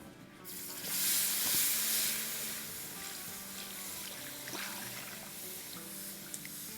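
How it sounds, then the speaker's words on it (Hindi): Two cups of water poured into flour roasted for about 15 minutes for a three-ingredient sheera halwa, giving a steady broadband hiss and sizzle that swells briefly near the start, then settles to a continuous close pour without talk. "अब इसमें हम डालेंगे 2 कप पानी"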